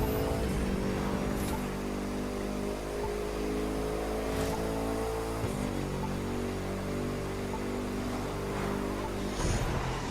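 A muscle car in The Crew 2 weaves through traffic with a loud, continuous engine drone whose pitch steps up and down as it shifts, with a few passing whooshes and no talking.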